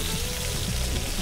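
Olive oil sizzles in a pan, a dense steady hiss of frying filling the whole short stretch at close range.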